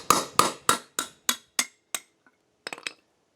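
A steering bushing is hammered out of a Craftsman lawn tractor: about seven sharp metallic taps in a quick, even rhythm, fading in force, then a brief pause and a final short cluster of lighter knocks, close and alone.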